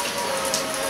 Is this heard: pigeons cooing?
no